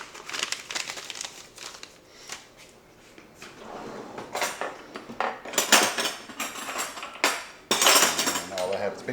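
Big metal spoons rattle and clink as hands rummage through a cutlery drawer, in bursts of jangling clatter that grow louder toward the end, with a person talking in between.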